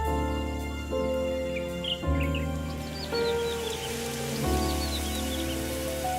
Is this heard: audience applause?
no